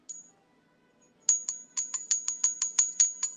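A small ceramic bell with a clapper inside is shaken close by, giving a faint first ding and then about ten quick, bright, evenly spaced rings, each with a short clink.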